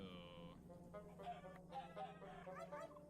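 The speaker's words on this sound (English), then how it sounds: "I'm gonna go looking for some chickens" Chickens in a video game cluck in short repeated bursts, fairly close, over a quiet steady background hum, with no talking.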